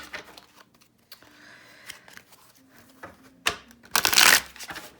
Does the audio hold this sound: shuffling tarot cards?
yes